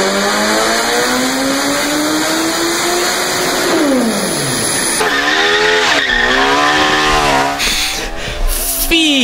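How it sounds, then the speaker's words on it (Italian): A high-revving Mini fitted with a 170-horsepower Suzuki Hayabusa motorcycle engine screams up through the gears, pitch climbing and dropping with each shift, loud and close. "Una Mini con il 1003 della Suzuki,"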